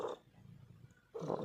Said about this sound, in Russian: Я еще такого мурчания не слышала